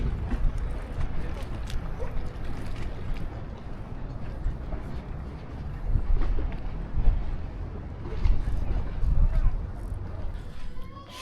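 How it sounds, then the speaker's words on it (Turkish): Steady, loud wind buffeting the microphone outdoors in Marmaris, Turkey, in December, with gusty rumble throughout and a voice talking intermittently underneath. "Ama rüzgar çok fazla var."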